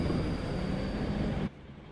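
A Great Western diesel locomotive spinning its wheels in Train Sim World 2, a loud dense roaring rumble that suddenly cuts down to a much quieter low drone partway through.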